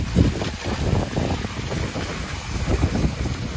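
A pressure washer sprays water over a 2022 Benelli TRK 502 BS6 motorcycle, making a continuous, close, rough hiss that rises and falls slightly as the spray shifts.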